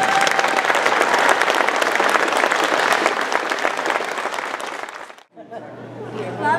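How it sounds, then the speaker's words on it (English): A school audience claps and cheers for second graders after their musical, loud sustained applause that cuts off abruptly, followed by nearby voices talking. "Give another round of applause to these great second graders"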